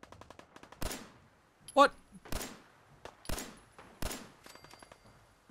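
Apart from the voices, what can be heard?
gunfire in the video game Fallout 4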